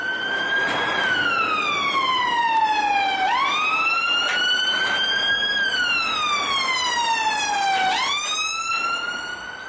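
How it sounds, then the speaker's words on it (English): A loud police siren wailing nearby, its pitch sweeping slowly up and down in long repeated cycles, steady and unbroken throughout. "Police car."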